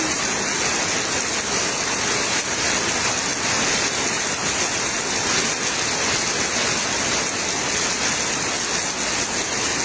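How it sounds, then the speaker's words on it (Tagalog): Heavy rain pouring during a Manila flood, a dense, loud, unbroken hiss of water falling on surfaces that lasts the whole stretch without a break. "Nilalabanan yung boses ko ng ulan"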